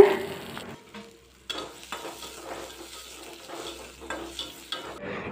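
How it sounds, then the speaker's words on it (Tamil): Chopped large onions, joined by curry leaves, sautéing in oil in a pan for an ivy gourd fry, with a soft sizzle and intermittent stirring scrapes, fairly close and alone. "அதையும் சேர்த்து நல்லா வதக்கிக்கோங்க எண்ணெயில்"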